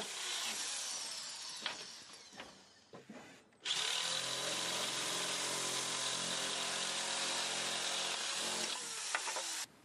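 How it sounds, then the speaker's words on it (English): A PacTool SS424 snapper shear, a powered tool, trims strips off fiber cement backer board, starting with short bursts and then running as a loud, steady, close cutting whine for several seconds. "PacTool's SS424 effortlessly trims strips off sheets of fiber cement backer board."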